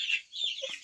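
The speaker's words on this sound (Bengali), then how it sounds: "এইগুলো হচ্ছে দেশি মুরগির বাচ্চা।" Native chicken chicks peep nearby in a few bright, high chirps, with soft lower clucks between them.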